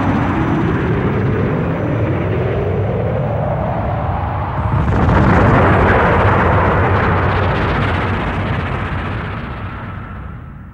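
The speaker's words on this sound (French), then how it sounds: "Propulsion activée. Tous les systèmes sont parés au décollage." Spaceship propulsion firing for takeoff in the Albator Harlock Saga animation: a loud, sustained roaring thrust with a rising whine that swells into a heavier blast midway, then slowly fades, with no voices.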